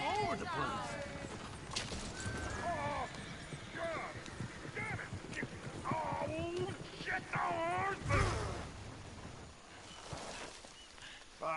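Horse hooves clip-clop across snow in Red Dead Redemption 2, steady hoofbeats with whinnies and squeals mixed in, while voices talk over them.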